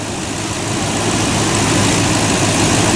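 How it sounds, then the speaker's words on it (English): A Toyota Tundra pickup truck engine idles loudly and steadily up close, a broad rumbling drone with no change in pitch and no voices. "you have to do this with the truck running"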